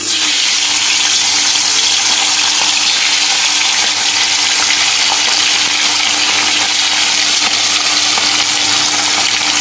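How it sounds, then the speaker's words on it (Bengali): Nigella seeds and green chillies dropped into hot oil in a kadai as a tempering for a hilsa fish curry, giving a loud, continuous close-up sizzle and crackle that never lets up, with no talking. "এবার এর মধ্যে যে কালো জিরে আর কাঁচা লঙ্কা ফোড়ন দিয়ে দিলাম।"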